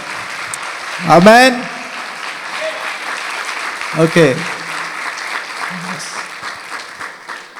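Congregation at a live worship service in a Dubai apostolic church applauding: sustained crowd clapping with a voice speaking over it at two points.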